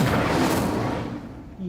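A Bombarda explosion spell goes off in Hogwarts Legacy, a deep booming blast with a long rumbling tail that fades over a second or two, loud and close with no talk over it.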